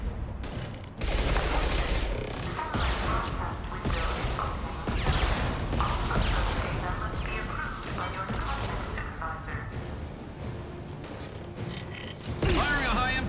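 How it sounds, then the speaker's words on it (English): Heavy gunfire from a high impact shot in Mass Effect 2, a loud, dense barrage of blasts and crashes with laser-blaster character, sustained throughout with bursts near the end, under intermittent talk. "Firing a high impact shot."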